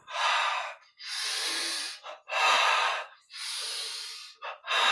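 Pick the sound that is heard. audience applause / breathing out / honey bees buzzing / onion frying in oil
breathing out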